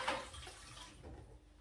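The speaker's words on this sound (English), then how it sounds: "So I'm just going to pour it back in the pan and warm that through." Homemade tomato, roasted red pepper and basil soup poured back into a pan, a brief close liquid splash and gurgle lasting about a second and a half with no talking.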